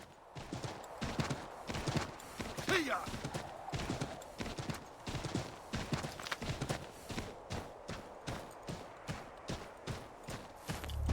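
Hooves clip-clop at a steady walking rhythm from a horse in Assassin's Creed, moderately close and continuous, with a brief whinny and people talking over it.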